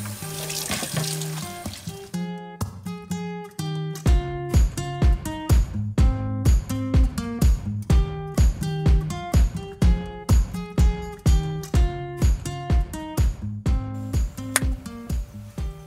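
Tap water runs into a truck camper sink while dishes are washed, a steady stream with rhythmic clinks and knocks of dishes repeating through it, close and fairly loud.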